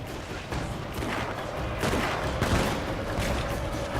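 Samurai-era troops fire a ragged musket volley in Total War: Shogun 2, a dense crackle of overlapping shots rolling on for several seconds over a steady battlefield din.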